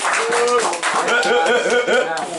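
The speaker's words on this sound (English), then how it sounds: "everyone give each other a round of applause" Football team clapping for each other after a match, a short burst of close hand claps mixed with shouting voices.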